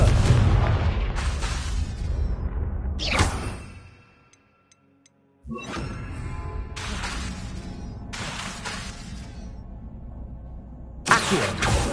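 Fire blasting spells in Hogwarts Legacy, loud booming explosive bursts with roaring crackling tails, broken by a short near-silent gap before more blasts resume and a final sharp boom.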